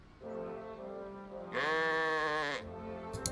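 A sheep bleats in the video game Orwell's Animal Farm, a short, clear, wavering call followed by a louder, higher bleat lasting about a second, with faint game ambience around it.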